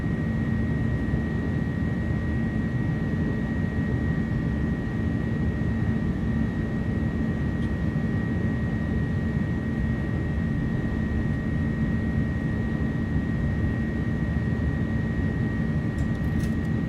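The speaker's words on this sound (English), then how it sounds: "this is going to be a long takeoff roll" An Airbus A300 in a flight simulator game rolls for takeoff as a steady, even jet engine roar with a constant whine throughout, loud and unbroken with no talking.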